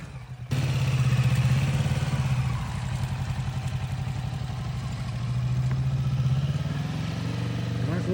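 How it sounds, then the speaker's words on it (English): A motorcycle engine runs close by during a riding lesson, a loud steady rumbling chug that rises and eases with the throttle over several seconds, with no voices. "Listen to that throttle"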